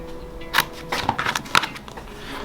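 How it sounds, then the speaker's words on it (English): Scissors cut a piece of foot elastic for pro wrestling kick pads. Three or four close, crisp snips come in quick succession against a quiet background. "we're going to take our elastic, cut us a nice piece of foot elastic"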